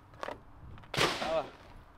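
A single sharp shot from a Glock 19 pistol firing 115-grain Fiocchi rounds cracks close by, ringing out briefly, with a faint voice just before it.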